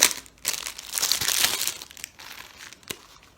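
Packaging of a makeup brush set being torn and opened close by, a loud crinkly rustle of plastic and cardboard that swells and fades, followed by a couple of softer crackles.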